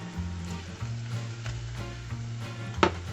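Onions fry in a pan as the base for a tomato sauce, giving a close, steady sizzle with a few soft scraping stirs and one sharp knock near the end. No one speaks.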